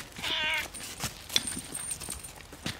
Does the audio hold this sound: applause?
no